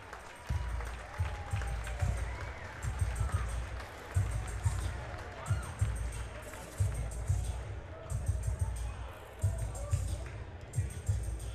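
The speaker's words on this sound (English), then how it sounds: "Let's give him a that. Round of applause." Applause from an arena crowd after an SF Combat X fight bout, steady clapping with rhythmic thumping and crowd murmur, moderately distant, while voices talk over it throughout.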